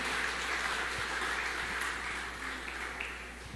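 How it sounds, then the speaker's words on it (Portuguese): Steady, quiet applause from a congregation in a Baptist church, a continuous wash of many hands clapping at a distance with no voices over it. "Você pode aplaudir o Senhor em nome de Jesus"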